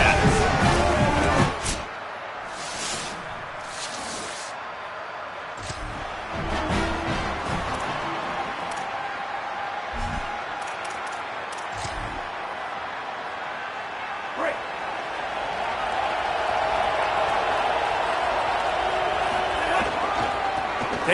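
Stadium crowd noise from an EA Sports College Football game, Alabama Crimson Tide against Kentucky Wildcats, a steady broad roar swelling louder toward the end, with a few sharp thumps early on and play-by-play commentary over it.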